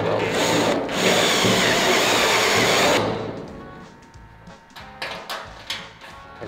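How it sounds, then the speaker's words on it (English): A power drill whines loudly for about three seconds drilling a hole in sheet metal and then stops, followed by scattered scraping and knocking of metal pieces. "You might as well drill that hole right now"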